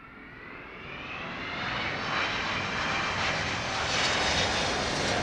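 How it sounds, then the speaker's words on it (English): A Virgin Boeing 787-9 Dreamliner arriving from LAX descends toward the runway at London Heathrow, its engine roar building steadily and staying loud and continuous as it passes close overhead, with no voices. "we have Virgin 142. That's one of their Dreamliner Dash 9s. That one coming in from LAX."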